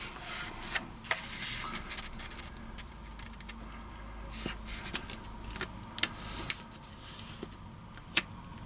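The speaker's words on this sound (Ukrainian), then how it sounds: "Беремо листок і складаємо його набік вдвічі." A square sheet of origami paper is creased in half, giving soft rubbing and crinkling with a few sharp taps and rustles, close and quiet, with no talking.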